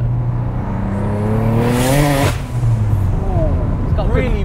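A 660bhp single-turbo BMW 335i accelerating hard from inside the cabin, the engine note climbing steadily in pitch, then a burst of hiss at a gear change before pulling again; a voice talks quietly underneath.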